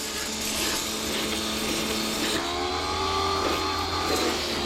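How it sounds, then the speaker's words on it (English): A cheap pressure washer runs with a steady, continuous motor drone and a hissing spray, held at an even level throughout with no talk. "So the pressure washer is working."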